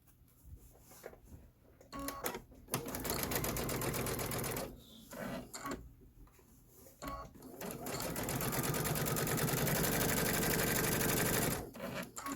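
A sewing machine stitches pieced fabric for a Kimberbell Twilight Boolevard bench pillow top in rapid, steady bursts with brief pauses between runs, close and clear with no talk over it.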